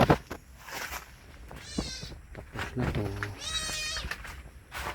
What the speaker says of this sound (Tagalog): may alaga na kami maliit na pusa